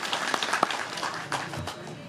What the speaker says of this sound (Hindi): एक बार तालियों से उनका अभिवादन करिए